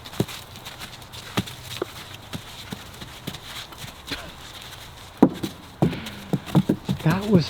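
Several horses trot past on an outdoor farm track, hooves clip-clopping in a steady, fairly close rhythm with crisper, louder strikes near the end, while a person talks over them.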